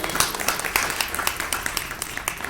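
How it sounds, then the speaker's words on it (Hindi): Loud applause and clapping from an audience at a religious discourse gathering, dense and continuous with sharp claps standing out across the whole stretch. "तालियां बजनी बड़ी जोर से।"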